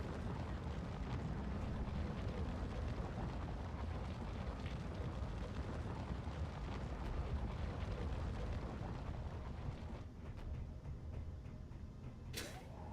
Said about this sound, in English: it's trying to pump all of the oxygen out of this room and the oxygen tanks